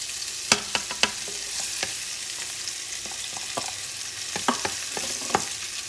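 Tomato tossed into a pan of sizzling shrimp dip, giving a steady frying hiss with a few sharp stirring clicks and spatula scrapes scattered through, close and fairly quiet with no voices.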